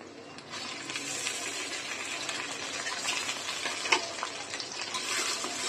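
A tomato fries in a hot pan with onion, ginger and garlic paste for biryani, giving a continuous dense sizzle close up with a sharp clink of a utensil partway through.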